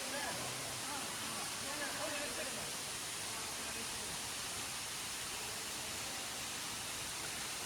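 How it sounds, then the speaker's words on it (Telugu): Kailasakona waterfall, running low in the dry summer season, roars as a constant, dense wash of falling water that stays even and unbroken throughout. "ఇదే వాటర్ ఫాల్"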